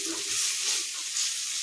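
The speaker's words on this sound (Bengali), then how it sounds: "এই মশলাটা কষবো" Masala spice paste fries in a pan while being stirred for a home-cooked fish curry, giving a steady soft sizzle with faint scraping, close and unbroken.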